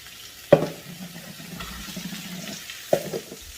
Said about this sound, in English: Okay, now we're going to saute our vegetables.